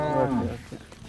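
A single cow at a cattle sale in Davanagere moos nearby, a loud low drawn-out call that fades after about half a second.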